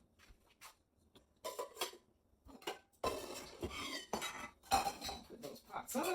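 Cutlery and dishes clink and rattle as a dishwasher is emptied in a home kitchen before breakfast, with intermittent bursts of metallic and ceramic knocks that grow busier and louder toward the end.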